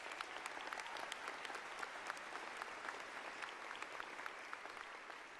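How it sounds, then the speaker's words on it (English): A graduation ceremony audience applauds the certificate graduates, a faint, even wash of many hands clapping at a distance, sustained without pause and free of talk. "A round of applause for all the graduates today."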